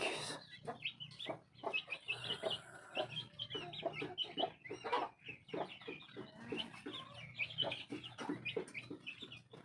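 Brahma chicks and hens cluck and peep close by in a backyard poultry setting, a busy overlapping chatter of soft clucks and chirps with no voices over it.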